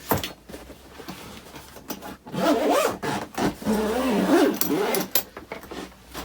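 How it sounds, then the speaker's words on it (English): A heavy-duty zip on a Proel DHZEBB Armor gig bag is pulled closed in several rasping strokes, close and loud, with brief pauses between pulls. "we'll zip her up with this real heavy duty tough zip"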